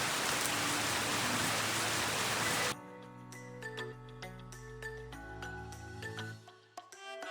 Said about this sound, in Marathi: खूप जोरात पाऊस येतोय